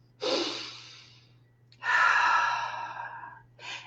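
Slow, deep breaths: a long airy exhale, a pause, then a fuller and stronger breath, with another breath starting at the end, all close and quiet against a low steady hum.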